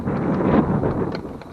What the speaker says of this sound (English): Starting to get a bit windy.